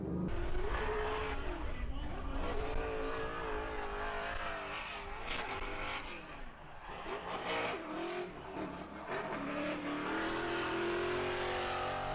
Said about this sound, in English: it also sounds like this thing's misfiring